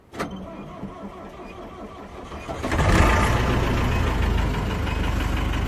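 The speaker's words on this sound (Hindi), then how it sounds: "तो चलिए अभी मैं मारता हूँ गाड़ी में सेल्फ।" A car engine is cranked with its electric starter, a short whirring crank that catches at about three seconds and settles into a loud, steady idle close by, with no talking.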